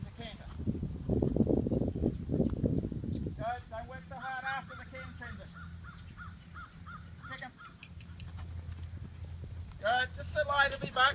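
A horse named Rocky Brie canters during a riding lesson, heavy rhythmic hoofbeats close and loud for a few seconds before fading under a steady low rumble, with a voice speaking over it.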